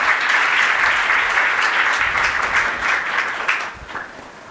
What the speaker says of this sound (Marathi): प्रभातच्या सर्व प्रतिभावंत कवींसाठी एकदा जोरदार टाळ्या झाल्या पाहिजे